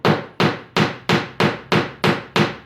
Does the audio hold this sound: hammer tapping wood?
yes